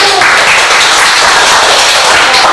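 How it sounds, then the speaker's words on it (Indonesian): An audience of students applauds a classroom group, with dense, loud clapping sustained evenly from start to finish. "kita kasih aplaus dulu untuk kelompok 1"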